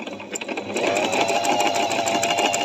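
A Singer digital sewing machine, model 1408, stitching after a brief start, its needle mechanism settling into a steady, dense, rapid whir that runs close and loud to the end.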